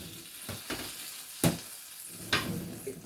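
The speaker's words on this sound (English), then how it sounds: "you hear that butter sizzling? That's that butter sizzling on that pan." Butter sizzles in a pan with pecan-crusted swai fish, a steady crackling fry broken by a few sharp clinks and scrapes of utensils against the pan.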